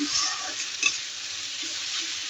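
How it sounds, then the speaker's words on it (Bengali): Spices sizzle and crackle steadily in a hot pan as they are stirred and fried, a dense, even hiss with a faint scrape partway through, heard close and alone without talk. "মশলাগুলো সুন্দর করে কষাই নেবো এখন।"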